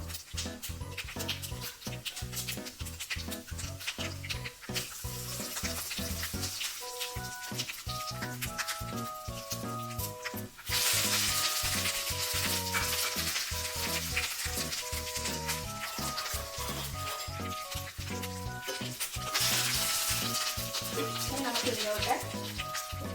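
Mustard seeds and a little rice crackle and sizzle in hot oil as tempering for pumpkin erissery, a steady close frying hiss running under music throughout.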